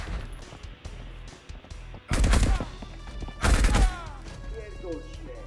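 A UMP submachine gun fires in Escape from Tarkov in two loud, close bursts of rapid shots, each lasting around half a second, separated by a quieter stretch of background game noise.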